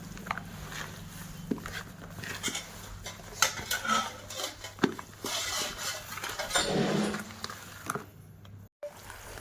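Mango pickle mixed with a spoon, clinking and scraping against a pot in steady repeated strokes, close up with no talk.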